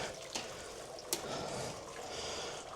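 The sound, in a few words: water draining from brewing vessel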